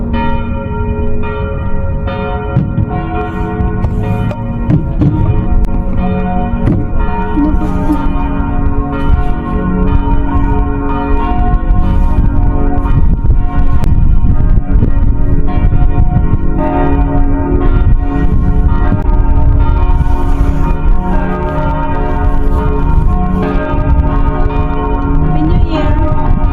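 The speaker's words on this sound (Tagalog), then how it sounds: "The bell is ringing." Church bells ring continuously around midnight on New Year's Eve in Jerusalem, a loud, dense peal with overlapping tones heard from a rooftop, with faint voices underneath.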